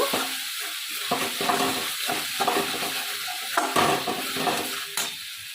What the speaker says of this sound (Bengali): চিনিটা দেওয়ার পরে মশলার সঙ্গে ভালো করে কষিয়ে নেব